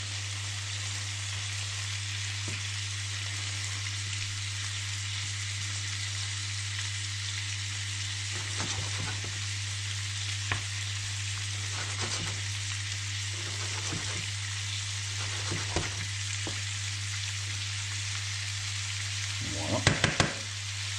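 Venison chops fry gently in a pan with a steady, moderate hiss that runs throughout, with a low hum beneath and scattered light clicks and a few clinks near the end.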